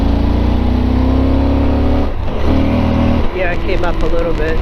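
Yamaha Tenere motorcycle with stock exhaust accelerating hard on twisty roads, its engine note rising steadily, easing briefly, then climbing again as the rider talks over it.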